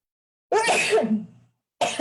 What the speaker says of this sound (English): excuse me. I'm going to sneeze.